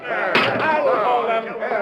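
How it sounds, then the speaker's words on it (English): A heavy jail door slams shut with one sharp, loud bang, followed by a rattle and ringing as it settles, with voices nearby. "Slam that door on them."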